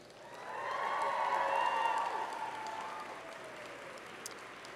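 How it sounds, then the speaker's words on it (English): A large crowd at a Simon Fraser University convocation ceremony applauds steadily, swelling to a strong peak and then slowly fading, with some cheering mixed into the dense clapping. "I ask you to reciprocate by applauding your family, friends, faculty, staff"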